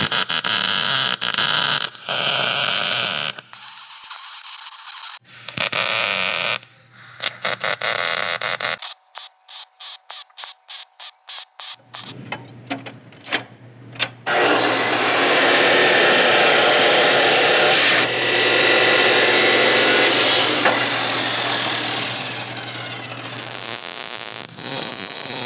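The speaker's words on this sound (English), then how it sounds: "I'm ready to start welding in these plates" Welding plates into a car roll bar, harsh crackling arc bursts in short stop-start runs and a rapid string of brief pulses, followed by longer steady loud welding passes.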